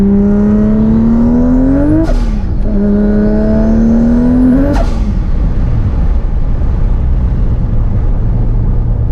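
Turbocharged 1200hp Toyota Supra engine revving hard twice, rising pitch climbing to a sharp peak and cutting off each time, then settling into a loud, steady idle rumble, close and without speech.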